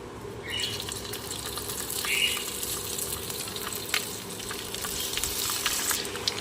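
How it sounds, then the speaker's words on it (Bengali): Tangra fish, washed and coated in salt and turmeric, dropped into hot oil in a pan, giving a steady sizzling hiss with crackles and spits throughout, no talk. "তেল গরম হয়ে গেছে মাছগুলো দিয়ে দিচ্ছি"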